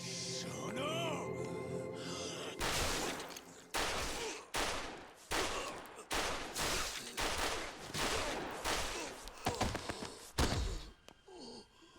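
A firing squad shoots in the video game Judgement. The volleys of gunfire come as a rapid series of loud, sharp bursts, roughly a dozen close shots at uneven intervals, with a gasp-like breath before them.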